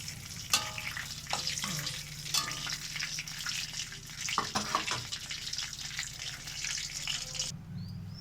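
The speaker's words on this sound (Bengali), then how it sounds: "তো তেলটা আমার গরম হয়ে গেছে, আমি জিরে ফোড়ন দেওয়া হলো" Cumin seeds crackling in hot oil in a pan, a close continuous sizzle with scattered pops and light clatter, fairly quiet, no speech.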